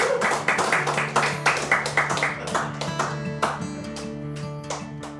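Audience clapping along in a steady rhythmic beat at a live music performance, sharp hand claps repeating under a sustained musical backing and gradually thinning out.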